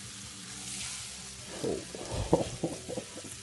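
Grilled cheese sandwiches sizzling in a hot buttered pan just after flipping, a steady frying hiss with a few soft clunks and scrapes of the spatula, close up.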